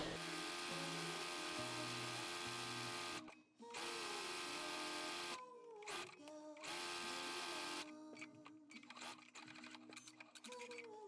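A sewing machine stitches a lettuce hem on a knit sleeve for a bodycon dress, running in loud sustained whirring bursts separated by brief pauses, then giving shorter stop-start runs with clicks toward the end.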